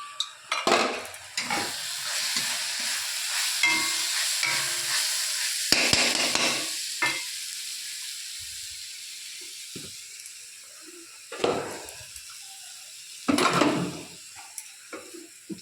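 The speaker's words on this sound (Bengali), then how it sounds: "এই এখন পেঁয়াজ ভাজি" Onions frying in a pan for a home chicken curry, a steady close hiss of frying with several louder bursts of stirring and scraping against the pan, and quieter stretches between.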